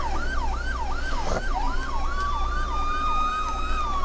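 Police car siren in the video game Brick Rigs, a loud continuous wailing sweep cycling up and down steadily throughout, with engine-like rumble underneath.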